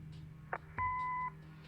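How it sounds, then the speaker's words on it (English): An answering machine beep in the Kathy Rain video game: a brief click, then a single clear steady electronic tone lasting about half a second, close and alone over a faint background hum. "Leave a message after the beep."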